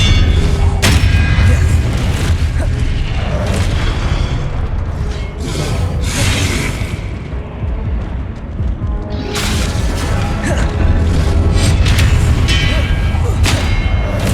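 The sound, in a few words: Expelliarmus and Confringo spells cast in the video game Hogwarts Legacy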